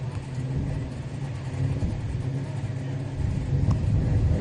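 A 1966 Pontiac GTO at a Hot Rod Drag Week event in Great Bend, Kansas, rumbles steadily with a low engine drone, heard at a distance among other vehicle noise.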